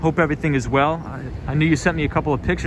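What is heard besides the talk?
No everyday noise stands out behind the speech.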